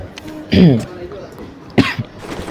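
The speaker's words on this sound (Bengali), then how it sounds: "কাশি লেগে গেছে" Two sharp coughs from a nearby person, one just after the start and another past the middle, with a soft breath and faint background sound between them.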